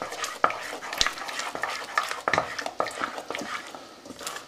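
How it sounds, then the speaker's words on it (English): Thick fudge mixture stirred in a pan: soft, close scraping and clicking of a spoon against the pan in an uneven rhythm, fairly quiet, with no talk. "But just keep stirring, eventually it will level out and you'll get a nice thick consistency again."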